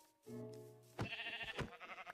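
Sheep bleat in a survival video game, two close, wavering bleats in quick succession, the second overlapping a rougher call, with no talk over them.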